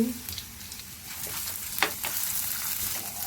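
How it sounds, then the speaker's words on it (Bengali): Chopped ginger and garlic sizzle in hot ghee, a steady, close frying hiss with light stirring scrapes and occasional crackles. "একটু লাল করে ভেজে নেব আমি"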